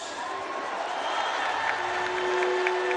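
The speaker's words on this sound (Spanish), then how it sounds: "un aplauso para ellos" A crowd applauds during a presidential address to the nation, a steady wash of clapping and cheering that swells slightly, with a voice audible beneath it.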